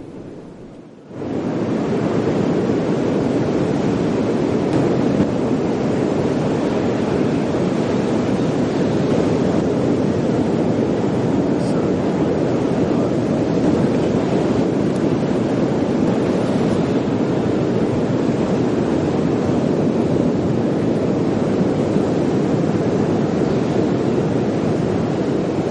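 Ocean waves wash continuously onto a Florida Gulf beach at sunset near Panama City, a loud steady roar of surf with wind buffeting the microphone and no voices.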